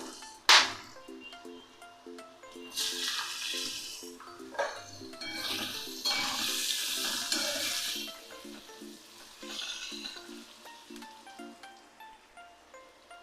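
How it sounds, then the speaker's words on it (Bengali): Whole garam masala and bay leaves drop into hot oil in a pan for a capsicum paneer curry, sparking a sharp sizzle followed by waves of frying hiss and stirring scrapes, close and moderately loud with no talking. "গোটা গরম মশলা, তেজপাতা দিয়ে দিচ্ছি।"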